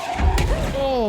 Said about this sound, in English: Oh, that was a rocket.